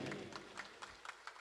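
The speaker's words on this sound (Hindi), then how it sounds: "अगर अच्छा लगा हो तो तालियां बजा दीजिए।" At a live bhajan competition at a Kali temple, an audience claps briefly, sparse and fairly faint, a handful of distinct claps tapering off.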